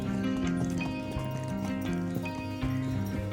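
Mustang horse walking a summer mountain trail in Utah, hooves clip-clopping in a steady rhythm under a continuous tonal bed, with an occasional snort or whinny nearby.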